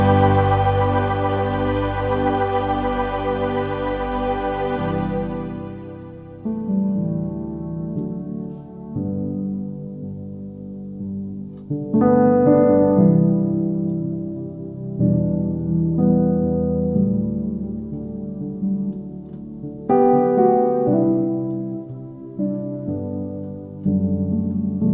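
A Nord Electro 6D plays a soft worship-style underscore patch: a big sustained chord fades away, then gentle, warm piano chords ring out in slow, spaced swells, with nothing else heard.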